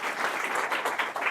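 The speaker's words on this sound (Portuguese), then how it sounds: "recebessem junto comigo, com uma salva de palmas aí" An audience at a condominium management forum in Francisco Beltrão applauds to welcome a speaker: steady, dense clapping from many hands that holds at an even level for the whole moment, with no voices over it.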